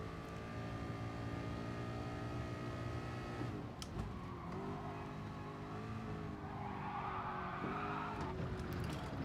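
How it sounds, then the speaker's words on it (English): Racing car engine in Gran Turismo Sport during an online Nations Cup race, with a steady high-revving drone that shifts pitch as the tyres slide and squeal partway through, loud and continuous with no talk. "Oh, what a slide. Not intentional or beneficial, but a slide nonetheless."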